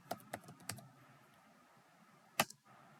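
A handful of separate keystrokes on a computer keyboard, three quick taps followed after a pause by a sharper, louder key press, all close by in a quiet room.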